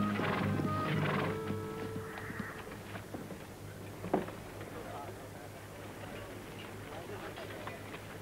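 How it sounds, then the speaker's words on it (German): A horse-drawn stagecoach arriving in a Western frontier town, hooves clip-clopping and a horse whinnying amid a busy outdoor scene with voices calling, the steady hoofbeats partly buried under the crowd. "Die Kutsche ist da!"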